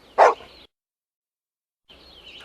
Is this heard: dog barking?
yes